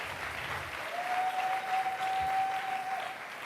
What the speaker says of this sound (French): Si vous êtes satisfait, acclamez.